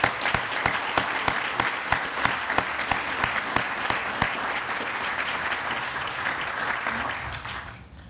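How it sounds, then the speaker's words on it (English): Applause from an audience at a groundbreaking ceremony on the historic Boyce Thompson site: a few sharp, loud nearby claps punctuate a steady crowd clapping that swells evenly, then fades out toward the close. "So I have to clap for you."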